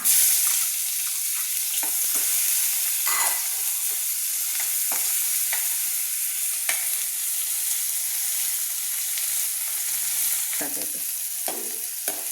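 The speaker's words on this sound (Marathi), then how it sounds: "कढीपत्ता परतून झाला की आपण त्यात कांदा घालून घेणार आहोत." Onions frying in a pan with curry leaves and garlic: a continuous close hiss and crackle broken by periodic scraping stirs, with no talking.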